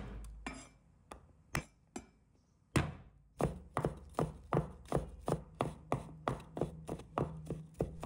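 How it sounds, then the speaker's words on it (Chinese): A knife chops garlic into mince on a cutting board: a few spaced strikes, then a brisk run of regular, close, sharp taps. "再准备几个大蒜，把它切成末"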